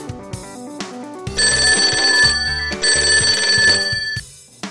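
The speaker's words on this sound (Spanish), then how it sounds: "En eso sonó el teléfono." A telephone rings in the mobile game Toca Life World, sounding two bright, sustained electronic ringtone bursts over a bouncy, plucked game melody that continues between and after them.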